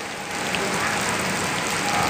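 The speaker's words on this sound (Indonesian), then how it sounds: "Masih hujan." Steady rain falling on the roof of the Kampung Rambutan bus terminal building during a flood, a constant hissing wash heard from above with no talking.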